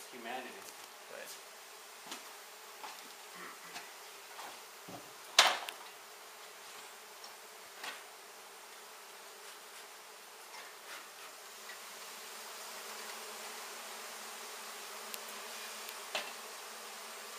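Honey bees buzzing around an exposed hive during a removal in McAllen, Texas: a faint, steady drone runs throughout, broken by scattered knocks and clunks from work at the hive.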